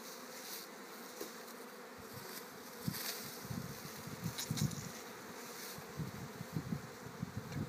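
Honeybees buzz around an open hive during a varroa mite treatment, a steady close-up drone with bees flitting near, rising and falling in intensity, with no talking.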